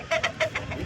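Rooster at a weekly Sunday hen market in Pileru, a bird about 22 in tall and 3 kg, gives a quick run of four or five close, loud clucking calls in a steady rhythm, with no talking.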